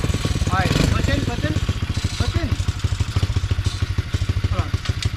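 A pit bike's small single-cylinder engine chugs close by in a rapid, uneven idle with revving, while people talk over it.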